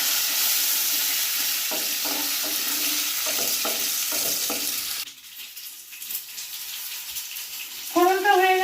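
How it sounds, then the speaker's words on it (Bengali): White mustard seeds and curry leaves fry in hot oil, a loud bright sizzle with stirring clatters, which then drops away as a voice begins speaking over quieter kitchen sounds. "তেলকে ভালো করে গরম করে এর মধ্যে আমি অল্প পরিমাণ সাদা সর্ষে ফোড়ন দিলাম, আর অল্প কারি পাতা দিয়ে দিলাম।"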